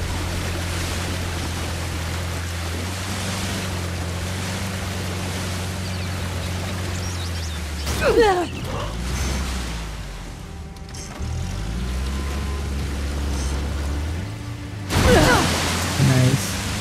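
A boat motors along a river in the video game Uncharted: The Lost Legacy, its steady low engine drone running under splashing water, with louder bursts of churning spray near the middle and end.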